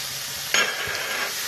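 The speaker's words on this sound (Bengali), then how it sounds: "এবার সর্ষে বাটাটা দিয়ে দেবো পোস্তটা দেবো সর্ষে বাটাটা দিয়ে দিলাম" Mustard and poppy seed paste hitting hot oil in a pan, a sudden close sizzle that flares then settles into a steady frying hiss, with no talk.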